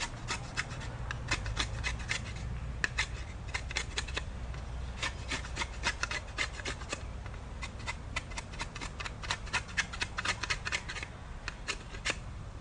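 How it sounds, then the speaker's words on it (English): Knife blade shaving down a piece of bamboo, quiet repeated scraping strokes in an uneven rhythm, close and alone with no talking. "So I'm going to take my other blade here, and I just want to shave it down."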